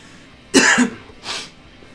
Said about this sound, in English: You asked how I'm feeling, and so I coughed